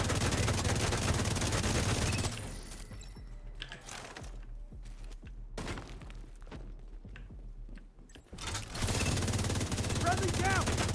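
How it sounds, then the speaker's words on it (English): Video game gunfire during a team match, with bursts of shooting and heavy thumps running through the clip under a loud, busy mix of game noise, and a voice talking in places. "Get some shooting."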